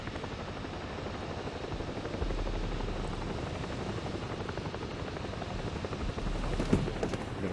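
A helicopter sets down in the Ghost Recon Breakpoint video game, its loud steady rotor thump and turbine roar filling the whole stretch, swelling slightly as it nears the ground, with a brief sharp knock near the end and no talking.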